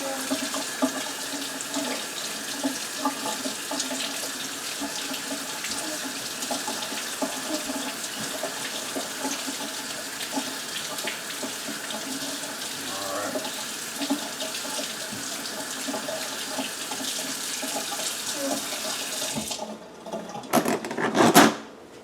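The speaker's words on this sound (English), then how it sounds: "So let's get it washed off first." A freshly laid chicken egg washed under a running kitchen tap, steady close water flow for about twenty seconds, ending with brief handling clatter as the tap is shut off.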